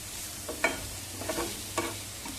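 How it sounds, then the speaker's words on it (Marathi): Grated carrot, chopped capsicum and French beans are stirred and sautéed in a pan for veg Manchurian, a soft sizzle under a few distinct scraping stirs, close and fairly quiet. "आता आपण थोडंसं गाजर किसलेलं ठेवलं होतं ते घालूया इथे शिमला मिरची आणि फरसबी आपण बारीक करून घेतलेली ती थोडीशी ठेवली होती ती सुद्धा घालूया सगळं चांगलं परतवून घेऊया"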